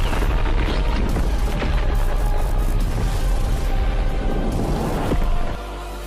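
An explosion erupting across a palace in an animated story: a loud, dense, continuous roaring blast that rumbles for about five seconds before abruptly dropping to a lower residual rumble.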